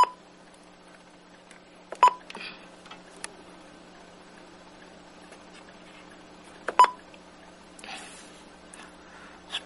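Telephone call tones on a quiet phone line: two short, loud tone bursts several seconds apart, with faint clicks and ticks between them.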